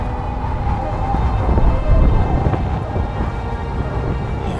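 Loud, roaring stormy weather in the mountains of Kyrgyzstan, with constant rumbling low noise and wind-driven rain, swelling in strength midway, no one speaking.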